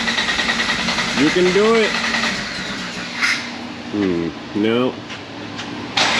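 A 1995 Jeep Wrangler with the 4.0 engine runs roughly and struggles to catch, its uneven engine chugging under a man's short spoken encouragement between bursts.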